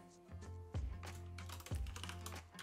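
Keystrokes on a computer keyboard as a chat command is typed, with two louder thumps and a steady low hum underneath, and no talking.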